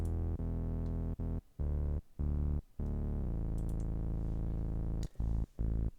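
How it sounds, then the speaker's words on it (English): A hardstyle synthesizer bassline made in FL Studio plays a simple melody of held, buzzy low notes broken by short gaps, with one pitch shift midway and a few faint clicks. "bassline melody 1, which sounds like this"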